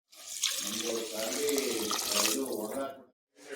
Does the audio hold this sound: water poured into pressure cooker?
yes